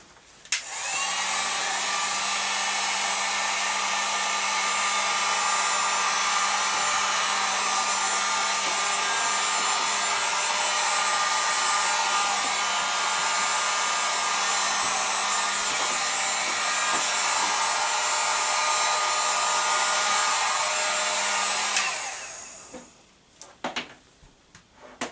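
A heat gun's steady, loud blowing whoosh runs continuously for about twenty seconds while shrinking a wine bottle seal, then cuts off, leaving a few faint clicks and handling sounds.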